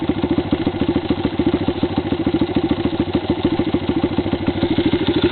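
A motorbike in neutral runs at idle, a loud, close, even exhaust thump pulsing rapidly and steadily with no voices.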